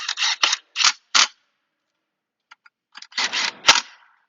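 Ratchet wrench clicks in short bursts while bolts are tightened down during a 2016 Nissan Altima CVT transmission rebuild; crisp, close ratcheting in two clusters separated by a pause, no talk.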